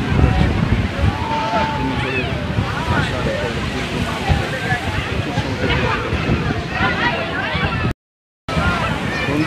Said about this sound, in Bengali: সমুদ্রের উত্তাল ঢেউ